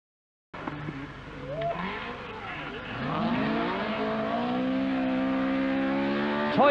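A Talbot Sunbeam Lotus rally car, driven sideways at the edge of a spin, with its engine note climbing steadily as it revs hard and grows louder toward the end, close and continuous.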